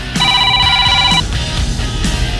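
A telephone rings once on a radio call-in show, a bright electronic trill lasting about a second over low studio background noise.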